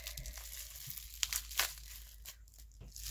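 Crinkling and tearing of bubble wrap as items from a makeup subscription bag are unwrapped, soft and close, with a few sharper crackling bursts among quieter rustles.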